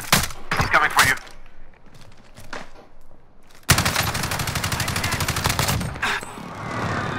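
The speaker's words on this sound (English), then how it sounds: "He's shooting from the other window." Call of Duty: Modern Warfare gunfire: a scattering of sharp shots early on, then a sudden loud, sustained burst of rapid automatic fire rattling for several seconds with fainter background activity.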